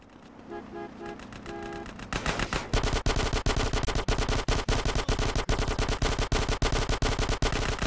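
Rapid, relentless automatic gunfire erupts in a GTA: San Andreas shootout on a pier, loud and continuous after a brief musical intro, with dense bursts of machine-gun shots and no talk on top.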